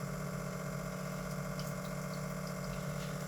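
A water filter membrane pump on a Jammy JF 80GPD reverse-osmosis unit runs as water begins to flow. It makes a steady, continuous hum with a faint watery hiss, close and unchanging throughout.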